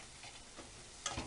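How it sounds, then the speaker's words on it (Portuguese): Onion lightly browning in a pan with pepper, coriander and salt, giving a soft steady sizzle and frying hiss with a couple of faint stirring clicks near the end, quiet and close. "Vou dando uma leve dourada nessa cebola."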